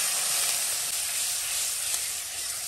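Spices fried with chilli powder and a little water sizzle in hot oil with a steady, close hiss that continues without pause.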